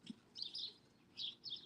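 Small birds chirp in a few quick, faint high bursts outdoors while big dogs chase them, with a quiet background and no other clear sounds.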